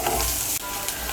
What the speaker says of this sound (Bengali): দিয়ে আদা, রসুন, পেঁয়াজ আর লঙ্কাটা ভেজে নেব।